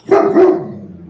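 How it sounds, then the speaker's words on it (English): A puppy gives a single loud, close bark with a short yelp-like rise and a quick fade. "The puppies have spoken."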